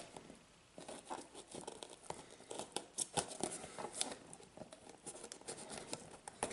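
Scissors snipping off a piece of duct tape while building a tape block, a quiet run of irregular crinkly cuts and tape rustle up close, with no voices.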